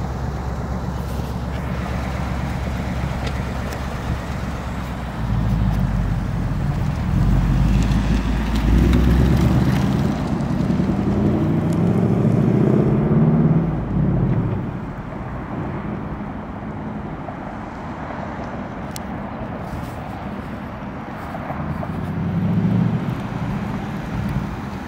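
A 2021 Ford Mustang Mach 1 and a Jeep Compass out driving, heard as a steady in-cabin engine and road drone that swells louder through the middle before settling back, with no talking.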